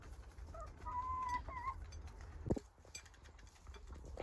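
Ex-battery hens, partly featherless, give a few soft clucks and a brief higher call, quiet and close, followed by a single knock and faint scuffling in a calm setting.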